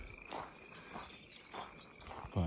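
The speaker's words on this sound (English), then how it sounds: "Sounds like frogs." Frogs calling around a small desert pond, a faint chorus of repeated croaks and trills at a distance with a soft rustle near the end.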